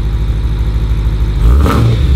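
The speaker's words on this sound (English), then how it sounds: "I'm giving you guys some revs with the valves closed." A BMW E91 M3 with a Valvetronic exhaust and the valves closed idles with a deep, steady rumble, then a short rev swells louder near the end.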